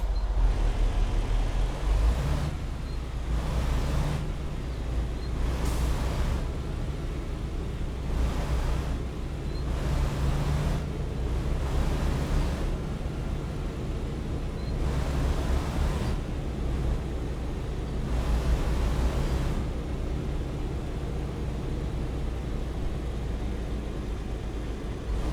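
A truck engine in American Truck Simulator drones continuously under full throttle, a low, rumbling roar with repeated brief bursts of hissy noise over about twenty-five seconds, no speech.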